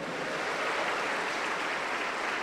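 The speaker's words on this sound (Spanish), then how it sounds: "Dele un aplauso contento para Cristo" A church congregation claps continuously in a dense, steady wash of applause that holds at an even level throughout.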